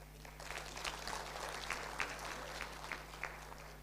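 A youth convention crowd at a government school in Kenya claps faintly and at a distance, scattered hand claps over a low electrical hum, quiet and thin throughout.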